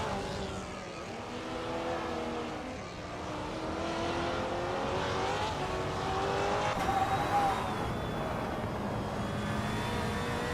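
Racing-game Maserati GranTurismo MC and rival cars roar continuously, engines rising and falling in pitch through gear changes, with brief tire squeal and passing whooshes, loud and steady throughout.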